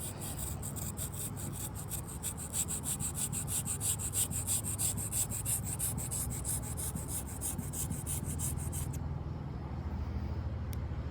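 A knife blade, a Kershaw Hotwire, rasps steadily over a sharpening stone in fast repeated strokes, close and continuous, then the stroking stops near the end.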